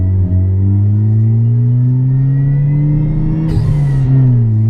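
A supercharged Ford Ka accelerates hard in third gear, its engine droning loudly with a steadily rising pitch, and a sharp whine and hiss flare up briefly near the end.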